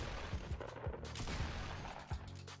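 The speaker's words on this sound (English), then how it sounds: "just get into the habit of shooting, build a wall, shooting" Shotgun blasts in the Fortnite video game, several sharp shots in an irregular sequence, mixed with building sounds and game effects, no talking.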